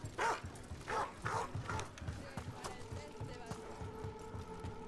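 A dog barking in Dragon Age: The Veilguard, with a few short barks near the start, then a steady tone under in-game ambience.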